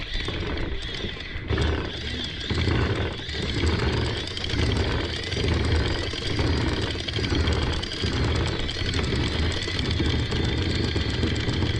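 A loud, close small sailboat engine idles in neutral with a steady pulsing throb for the whole stretch, its beat rising and falling slightly as the revs change.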